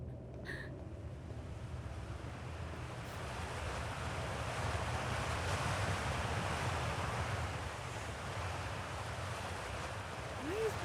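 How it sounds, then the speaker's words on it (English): Steady broadband rushing of water jetting upward on an alien planet in the space exploration game Outer Wilds, a continuous roaring spray like surf and wind that holds evenly throughout with no talk. "Why is water being shot upward?"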